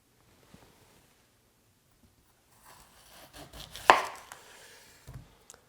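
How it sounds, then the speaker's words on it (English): A sharp knife slices down the middle of a fennel bulb on a cutting board, a crisp crunching cut that swells to one loud peak and then fades. "next we want to cut this right down the middle"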